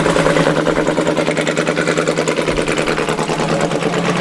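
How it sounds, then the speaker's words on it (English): A blue-green Land Rover fitted with a Rover V8 engine runs at a show gathering, sounding ratty with a steady, rough pulsing idle, loud and close, with no talk over it. "you'll see the bluey, greeny coloured Land Rover at the top there, sounding extremely ratty"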